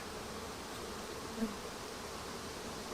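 Honey bees at a hive hum in a steady, low buzz, moderately close and continuous, with no voices over it.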